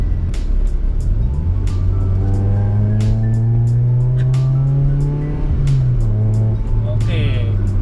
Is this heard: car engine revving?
yes